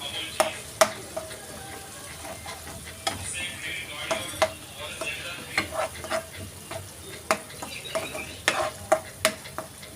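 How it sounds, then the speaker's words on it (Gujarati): Tomato paste frying in oil in a pan for cashew curry, a steady soft sizzle broken by repeated clicks and scrapes of a spoon stirring, close and fairly quiet. "એને પણ સરખી રીતે સાતળી લઈશું. તેલ છૂટું પડે ત્યાં સુધી."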